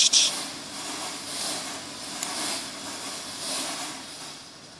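Smoke generator fitted in a DeLorean time machine replica, giving a soft, airy steam-like hiss that swells and fades in several broad puffs with a brief sharp burst at the start, heard alone.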